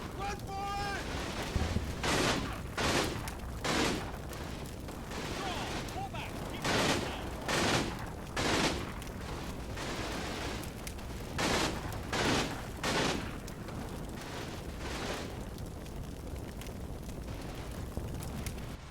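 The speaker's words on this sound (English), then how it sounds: "the vengeful crew cut the machine gunner in half with their 30 caliber coaxial MG, killing him instantly" In the Combat Mission: Battle for Normandy game, a .30 caliber coaxial machine gun on a tank fires with heavy hits: a string of loud, rapid bursts and blasts spaced a second or two apart over rumbling background battle noise.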